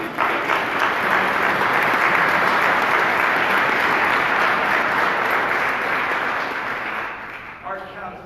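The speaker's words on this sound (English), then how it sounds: "let's give the chairman another round of applause" An audience applauds a chairman at a health care cost policy hearing, sustained loud clapping filling the room for several seconds before tapering off at the end.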